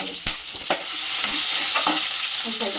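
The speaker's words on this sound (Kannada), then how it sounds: "ಬೆಳ್ಳುಳ್ಳಿ ಪೇಸ್ಟ್ ಸ್ವಲ್ಪ ಸಿಡಿತಾ ಇದೆ" Ginger-garlic paste and green chillies sizzle and crackle in hot coconut oil, a steady frying hiss broken by sharp pops and stirring scrapes, close and with no talking.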